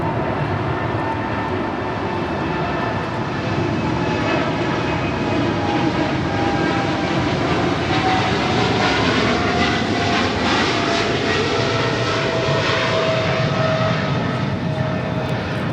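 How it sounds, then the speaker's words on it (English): A Qatar Cargo Boeing 777 freighter departs LAX with a loud, steady jet engine roar. Whining tonal layers rise and fall over the broad rumble for the full duration. "That is Qatar Cargo 8105 departing to Chicago O'Hare on a 777 freighter"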